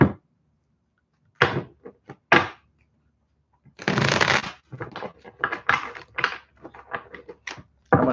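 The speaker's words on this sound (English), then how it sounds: "I'm going to shuffle this one more time." Tarot cards are shuffled in several quick riffles and taps, with bursts of crisp flicking separated by brief silences, close and fairly loud.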